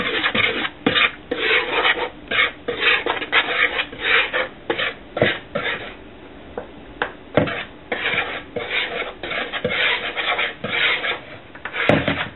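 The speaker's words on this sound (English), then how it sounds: "we're going to whisk these together until they're nicely blended" A whisk scrapes through flour, sea salt and baking soda in a bowl with quick, rhythmic rasping strokes that are close and fairly loud, with a few short pauses.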